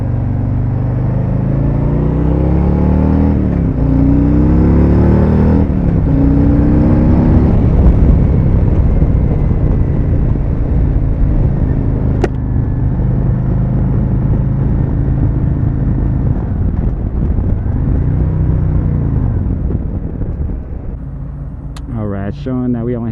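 A custom 2021 Harley-Davidson Road Glide Special rides through Los Angeles, its engine droning steadily with rising and falling pitch as it shifts and accelerates, loud and close under wind, with brief sharp noises near the end.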